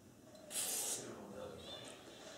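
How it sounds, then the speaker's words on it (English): A short, close burst of WD-40 aerosol hisses onto the slide of a Smith & Wesson M&P pistol, lasting about half a second, then fades into quiet room noise. "Take a little WD-40, spray the slide down"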